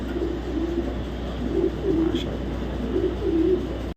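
Soft, repeated coos of racing pigeons, including a male, rising and falling in a steady rhythm over a low background hum, several birds calling close by.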